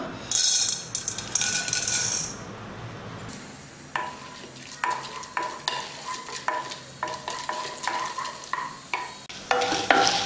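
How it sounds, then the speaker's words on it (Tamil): Chana dal and urad dal crackle as they fry in hot oil for a radish chutney, opening with a loud hiss, then a run of rhythmic spoon scrapes and clinks against the pan. "இந்த கடலைப்பருப்பையும் உளுந்த பருப்பையும் போட்டு வறுத்துக்கலாம்"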